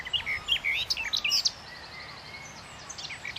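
A garden warbler sings on the Isle of Eigg in Scotland, a rapid run of high, varied warbling phrases, then softer scattered notes. It is fairly close and clear over a quiet outdoor background.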